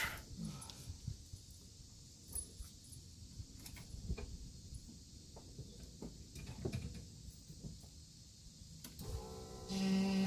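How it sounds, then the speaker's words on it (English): The fuel pump of a 1988 Volkswagen Scirocco primes before startup. Faint shuffling and clicks come first, then a steady electric hum sets in near the end, quiet and close. "Fuel pump. There it goes."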